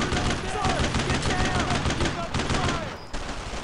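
Dense, continuous rifle and machine-gun fire from the World War II shooter Brothers in Arms: Road to Hill 30 rattles loudly throughout, with rapid overlapping shots and voices talking over it.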